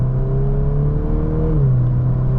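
A VW Golf R hot hatch in Nürburgring mode accelerating hard from a rolling start, its engine note rising steadily from inside the cabin, loud and close, then dipping briefly as a gear changes.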